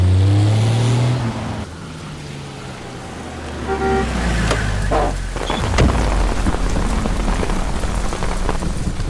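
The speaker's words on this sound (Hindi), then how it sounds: "बारिश होने वाली है" Steady rain pours down loudly and continuously, with a brief deep rumble mid-way, in a Hindi comedy scene set near a Yamaha showroom.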